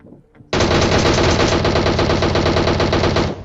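A DP machine gun fires at enemies in a video game: one loud, continuous rapid-fire burst of nearly three seconds, starting abruptly after a quiet moment and cutting off sharply.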